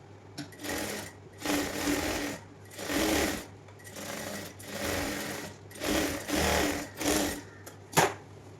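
A sewing machine stitches a nightyfrock in repeated bursts, each run lasting about a second with short pauses between, close and clear, ending with a sharp click.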